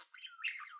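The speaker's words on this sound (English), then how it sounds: "Budgie." Budgie chirping: a single short, warbling high-pitched twitter, faint but clear and close, with no other sound around it.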